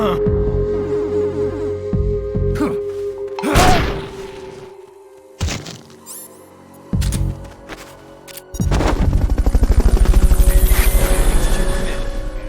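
A helicopter in the video game Metal Gear Solid: Peace Walker whirs loudly, broken up by sharp game thumps and impacts, then a strong sustained rotor drone takes over near the end.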